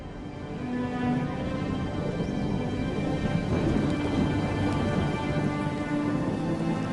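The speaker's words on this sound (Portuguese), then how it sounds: "Em Angola, chove muito nos planaltos." Heavy rain pours steadily over the Angolan highlands while thunder rumbles low and continuous beneath it, a dense, loud storm wash with no voices throughout.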